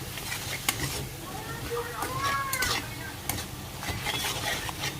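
Onion masala with turmeric, salt and home-ground spice sautés in a pan, a steady soft sizzle broken by sharp clinks and scrapes of a spoon stirring against the metal, while someone talks over it.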